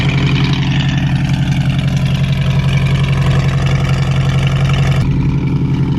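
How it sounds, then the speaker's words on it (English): A 1968 Ford Mustang Fastback with a Pypes Performance exhaust idles loudly and close, a deep, steady burbling growl with a slightly uneven lope, no voices. "Pypes Performance exhaust coming to the rescue to give the growl that she deserves"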